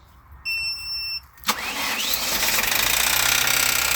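A 1995 Ford Escort 1.9 engine cranks with a sharp catch, then settles into a steady, rough running drone that continues to the end; a few brief tones are heard before the start.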